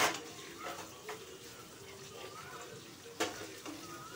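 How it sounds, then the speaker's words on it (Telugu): Two onions frying in a pan for chamagadda pulusu, a steady soft sizzle with occasional stirring clinks, fairly quiet. "ఇది కొంచెం బాగా వేగాలి, మాడచొద్దు."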